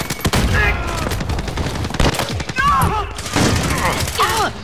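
Rapid bursts of gunfire in a Call of Duty: Modern Warfare match, loud repeated shots and volleys throughout, with players talking and shouting over the shooting.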